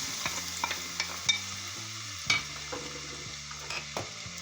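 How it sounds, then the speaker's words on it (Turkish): Onions sizzle in olive oil in a pan, soft steady frying punctuated by several sharp stirring scrapes and clicks, close and fairly quiet, no voices. "Zeytinyağımızı koyduk. soğanımızı ilave yapıyoruz."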